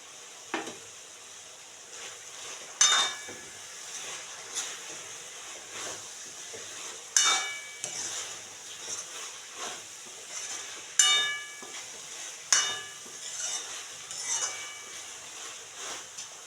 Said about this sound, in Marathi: काही सुकट पण तळून घेऊ त्याच्यामध्ये